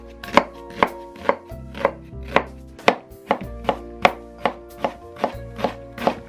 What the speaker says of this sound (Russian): Сначала лук. Лук режу как на пельмени.